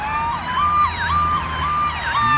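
Siren from a 2012 Pierce LXT fire engine, Engine 6, responding to a building fire, wailing in steady rising and falling sweeps, loud and close with an engine rumbling underneath.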